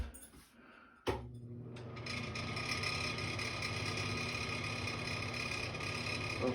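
Newly replaced bathroom exhaust fan switched on after a click, then a steady, even whir and hum that settles in and runs continuously at moderate level.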